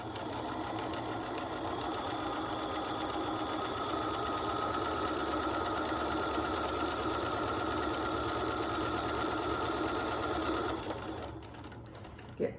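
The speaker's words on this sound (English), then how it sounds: "we're going to sew right alongside the pipe cleaner" A sewing machine stitches a fabric face mask right alongside a pipe cleaner, running as a steady continuous mechanical whir close by for about eleven seconds before stopping, followed by a brief clunk near the end.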